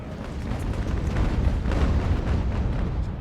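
Artillery fire in the naval battle game The Ultimate Admiral: Age of Sail, a dense rumbling barrage of overlapping booms rolling continuously for a few seconds with no voices.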